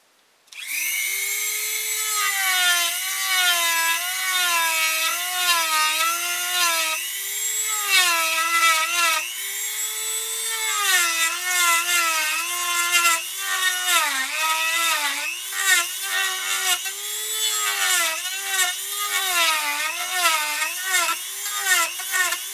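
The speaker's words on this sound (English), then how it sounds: "Switch to this bigger round burr here and take some of this out in here." A rotary tool fitted with a large round burr carves wood for a ventriloquist dummy figure, giving a steady, close high-pitched whine that wavers in pitch as the burr loads and eases through the cut, heard alone without talk.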